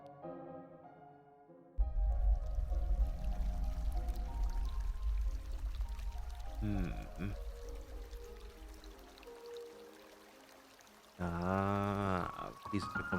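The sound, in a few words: water pouring in a video game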